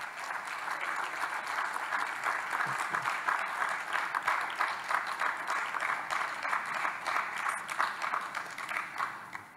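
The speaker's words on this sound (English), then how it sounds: "can we give them a round of applause?" Sustained audience applause fills the room at a university panel event, steady dense clapping from many hands at moderate distance with no break throughout.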